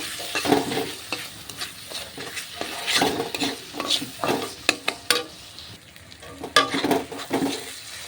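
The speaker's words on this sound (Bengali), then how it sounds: "এবার এটাকে ভালোভাবে নাড়াচাড়া করে নেব" Spices, onion and salt stirred together in a pan for a rohu fish curry: irregular scraping strokes of a spatula over a light sizzle, close by, with uneven bursts of activity.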